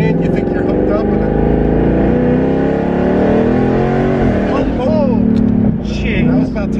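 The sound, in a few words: twin turbo 2019 Mustang GT engine revving at partial throttle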